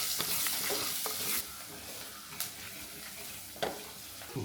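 Crushed chilli, green chillies, peppercorns and plenty of curry leaves fry in a pan, a soft steady sizzle broken by a few sharp utensil clacks and scrapes.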